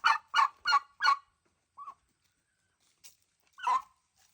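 Turkeys and hens in a farm barn with fresh bedding call out in four loud, evenly spaced honking gobbles, then a short softer call and one more gobble after a pause, close by and alone.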